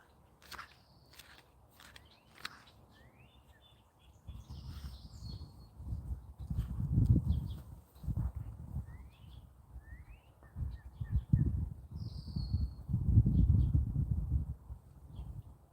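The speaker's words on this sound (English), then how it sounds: "growing up, we always used to just call these Orioles" Several short whistled calls from an oriole ring out at a moderate distance, scattered through the clip, while nearby footsteps and handling noises thump heavily in the foreground.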